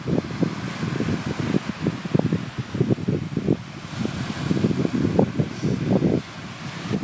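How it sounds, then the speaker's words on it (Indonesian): Strong wind buffets an outdoor microphone in a steady, rumbling roar with irregular gusts over about seven seconds. It is loud and close, with no talking. "Anginnya kencang banget."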